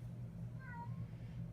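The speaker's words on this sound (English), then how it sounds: "Cat!" A single short cat meow rises and falls faintly midway, over a low steady indoor hum, with no talking.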